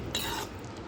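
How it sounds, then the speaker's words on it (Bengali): A spoon scrapes and clinks in a pan while fried jackfruit koftas are stirred into curry, one short metallic clatter standing out, then a soft low stirring. "সমস্ত কোপ্তা দিয়ে ভালোভাবে আমি মিশিয়ে নিচ্ছি।"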